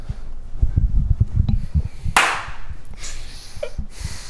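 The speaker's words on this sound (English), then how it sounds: "You're good at clapping." A person claps hands indoors, one sharp loud clap standing out after a stretch of low talking, followed by a few quieter clicks and murmurs.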